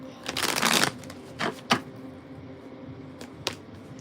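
Tarot cards being shuffled and one drawn, a dense riffling burst near the start followed by a few shorter sharp card flicks and snaps, close and clear with no talking over it.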